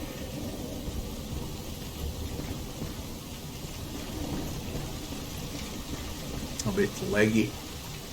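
Steady rain hisses across a rain-swept outpost in the video game Dark Souls: Archthrones, a continuous wash of downpour with low rumbling beneath, while someone talks over it near the end.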